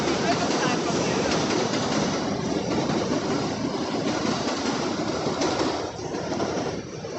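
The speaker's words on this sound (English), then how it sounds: "That's right, the train." A train rumbles past close to a platform in Harlem, loud and continuous with rattling cars, easing slightly near the end while people talk underneath.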